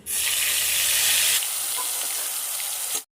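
Masala paste sizzling in hot oil in an Odia home kitchen while cooking aloo matar kasa, a steady loud fry that eases to a softer crackle partway through, with no talking.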